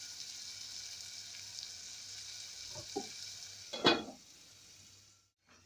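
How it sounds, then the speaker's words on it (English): Beef pilau sizzles steadily in a pot while salt and masala are stirred in, with a few scraping knocks of the spoon around the middle and the frying hiss fading out at the end. "Stir then cook it for about a minute"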